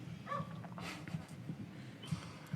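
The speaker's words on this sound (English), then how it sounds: "Whose fucking dog is that" A dog off in the background gives a few short whimpers and soft yips at irregular intervals, faint and distant amid room noise.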